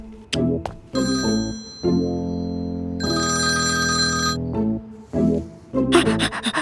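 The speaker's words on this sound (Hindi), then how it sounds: "फोन नहीं उठा रहा क्या?" A phone rings unanswered: an electronic melodic ringtone plays in repeated bursts, loud and close, with no one speaking.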